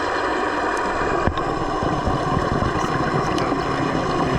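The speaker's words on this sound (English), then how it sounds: "Boats are so noisy when they're going overhead." Heard underwater off Cozumel, Mexico, a boat passes overhead: a steady, loud mechanical drone and churning wash fill the whole stretch, with no voices and only a brief knock partway through.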